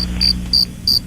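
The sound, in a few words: cricket chirping sound effect from buttons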